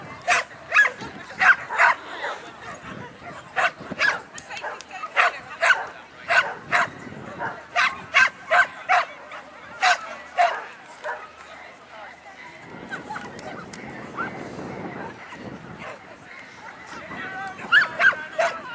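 Several dogs bark and yip in sharp, scattered bursts at a dog agility ring, some near and some farther off, with a stretch of muffled rumbling and a voice talking in between.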